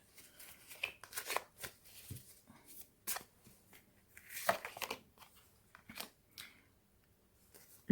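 Tarot cards are shuffled by hand in soft, close bursts of riffling and slapping, repeated irregularly with short quiet gaps between them.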